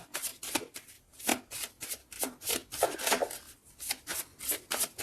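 Tarot cards are shuffled and drawn in rapid, close bursts of crisp riffling and flicking, with short pauses between the bursts and no talking.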